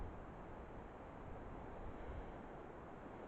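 Low, rumbling wind buffeting the microphone, a steady muffled roar with no talking.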